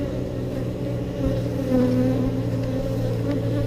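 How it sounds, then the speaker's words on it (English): Honeybees crowd a full hive frame during a Texas beekeeping inspection, their steady close buzzing forming a continuous drone throughout with no talk. "So this is a full frame of bees."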